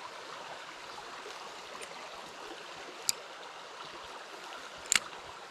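A small brook runs steadily in a quiet morning outdoor setting, a soft continuous watery hiss with a couple of brief sharp clicks near the end; no one speaks.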